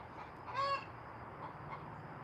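A hen in a backyard garden lets out a single short, honking squawk after laying an egg. It is faint and distant against a steady outdoor hiss, and nobody speaks.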